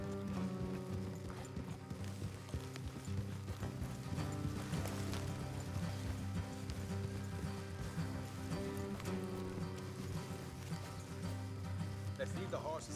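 Horses clip-clop along in the video game Red Dead Redemption 2, a steady rhythm of hoofbeats under game music, with a character talking over it.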